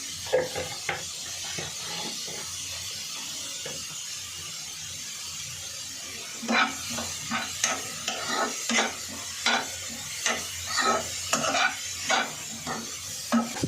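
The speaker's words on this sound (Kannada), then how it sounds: "ಓಕೆ, ಇದು ಇವಾಗ ಆಲ್ಮೋಸ್ಟ್ ಫ್ರೈ ಆಗಿದೆ." Momo filling frying in a pan with a little salt, under a soft steady sizzle, as a spoon stirs and scrapes in quick repeated strokes, growing rhythmic and louder in the second half. Close, with no talking.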